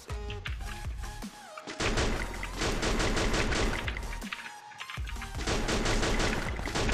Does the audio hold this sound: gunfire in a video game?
yes